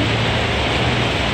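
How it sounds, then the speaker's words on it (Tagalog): Heavy rain pours down in Baguio City as a steady, dense broadband hiss that fills the whole short stretch at an even loudness, with no voices and no breaks. "Papatila muna ng ulan."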